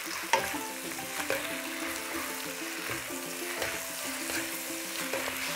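Rice noodles are stir-fried with Pad Thai sauce in a hot pan. A steady sizzle runs under repeated scraping and tossing strokes, with occasional sharper knocks of the utensil against the pan.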